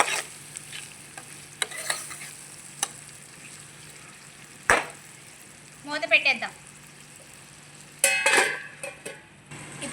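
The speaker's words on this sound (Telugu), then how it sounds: "పసుపు వేస్తున్నాను ఇప్పుడు ఒకసారి తిప్పుదాం సిమ్లోనే ఒక ఫైవ్ మినిట్స్ అలా వదిలేయండి" Mushroom curry with turmeric frying in a pan, a faint low sizzle under several sharp scrapes and clatters of a spoon stirring against the pan, with short bursts of louder stirring.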